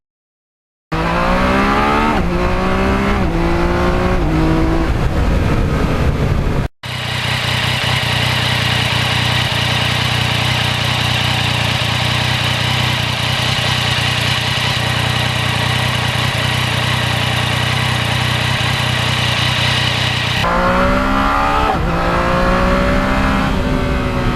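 A Yamaha MT-09 motorcycle with a welded one-piece exhaust, no muffler and only a catalytic converter runs loud and close, with rising and falling revs at the start and end around a long, steady, raspy idle.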